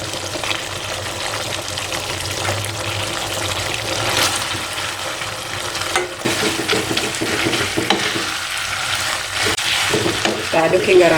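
A spoon stirs boiled spaghetti into bolognese sauce in a pan, a continuous wet scraping and churning with a soft sizzle underneath, fairly close throughout.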